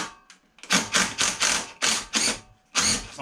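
Cordless DeWalt power tool fitted with a 10mm socket undoing bolts on a Honda HRX476 lawn mower, giving loud repeated rattling bursts, about six short close bursts separated by brief pauses.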